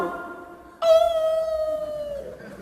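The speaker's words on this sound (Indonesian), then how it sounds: "Kenapa kalau azan berkumandang suara anjing melolong?" A dog howls after the Islamic call to prayer: a single sustained, wavering howl that starts abruptly and slowly falls in pitch over about a second and a half, fairly close and alone.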